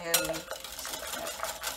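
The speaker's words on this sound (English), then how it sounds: "And we'll stir this in." Brownie batter being stirred in a bowl for cast-iron baking, quick scraping and light clinking of a utensil repeating close and fairly soft over a couple of seconds.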